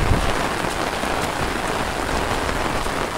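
Heavy rain pours down outdoors during a monsoon shrimp-catching outing with bamboo traps, a dense, steady roar of drops hitting surfaces with no break.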